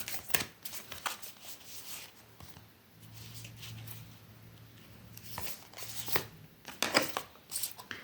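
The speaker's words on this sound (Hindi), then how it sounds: "एक लास्ट शफल ले लेती हूँ" Tarot cards being shuffled by hand, giving soft papery riffles and slides in quick bursts, close and fairly quiet, with a low hum in the background.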